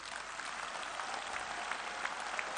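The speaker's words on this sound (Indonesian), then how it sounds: "Saya minta aplaus yang sebesar-besarnya" Applause from a party congress audience, a dense steady clatter of many hands clapping at a distance, continuous and even for the whole stretch with no voices over it.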